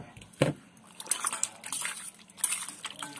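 A glass of water poured over raw mango peels and pits, a short splash followed by faint sloshing and trickling, quiet and close.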